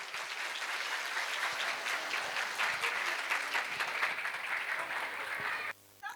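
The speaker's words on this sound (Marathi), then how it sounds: "सगळ्या मुलांसाठी जोरदार टाळ्या झाल्या पाहिजे." At a school annual gathering, an audience gives loud, sustained applause for a children's performance. The clapping runs steadily and then stops abruptly near the end.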